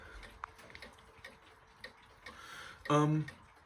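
Several clocks tick softly and steadily in a quiet room, then one clock strikes a clear, ringing chime near the end that stands out loudly over the ticking.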